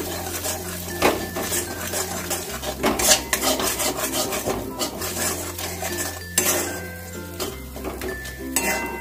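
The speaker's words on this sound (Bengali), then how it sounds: "মশলাটাকে একটু ভালো করে 1 মিনিটের মতন একটুখানি কষিয়ে নিচ্ছি" Spice masala for a prawn and bottle gourd curry is stirred in a pan with a metal spoon, giving continuous scraping, clinking and rubbing against the pan, loud and close, with no talk.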